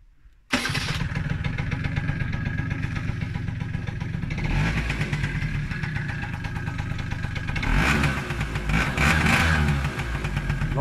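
A 1999 Vespa ET2 50cc scooter (Type C16, 3.7 hp) electric-started: the engine catches abruptly after a brief pause, then runs steadily close by with a buzzy two-stroke idle and a couple of light throttle blips.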